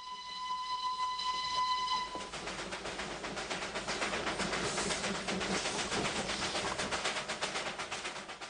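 An old steam locomotive, built over 70 years ago, works along a mountain railway through dense forest, with a steady rumble and clatter and bright whistle tones sounding over the first two seconds.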